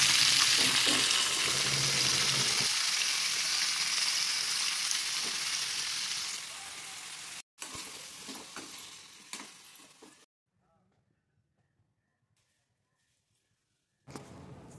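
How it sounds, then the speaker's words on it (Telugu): Brinjal pieces fry in a tempering of onion, chilli and curry leaves, giving a strong continuous sizzle that fades as they are stirred. Brief clinks follow, then near silence. "ఈ తాలింపు మగ్గాక వంకాయ ముక్కలు అనేవి యాడ్ చేసుకుంటున్నాను."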